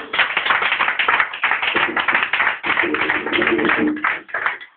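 A church congregation applauds loudly, dense continuous clapping running nearly five seconds with a few short dips, close and steady throughout.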